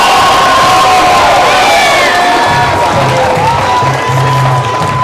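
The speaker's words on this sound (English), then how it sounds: "Please, big round of applause for Katana Botello" Crowd at a martial arts black belt graduation cheers, whoops and claps loudly for a second-degree belt recipient, with children shouting and excited voices rising over continuous applause.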